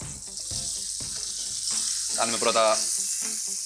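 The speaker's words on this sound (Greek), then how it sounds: "ρίχνουμε τώρα και τα λουκάνικα μαζί με το κρεμμύδι" Sausages and onion frying in a pan during home cooking of a pasta dish, a steady sizzle running throughout with louder bursts of crackling midway as the food is stirred, while a person speaks briefly over it.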